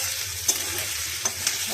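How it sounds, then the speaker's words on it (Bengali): Onion and tomato frying in a pan, a continuous close sizzle with a couple of brief stirring clicks and scrapes. "পেঁয়াজ আর টমেটো দিলাম"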